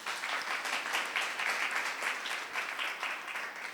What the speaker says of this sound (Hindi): एक दफ़ा माओं के लिए जो है मैं चाहूँगा तालियां बजाएं।